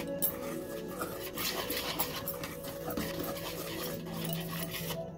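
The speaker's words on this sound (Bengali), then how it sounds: "দিয়ে এটাকে ভালোভাবে আমরা মিশিয়ে নেব।" A spoon clinks and scrapes softly in a bowl as powdered milk and dry muffin ingredients are mixed together, with quiet, irregular stirring throughout.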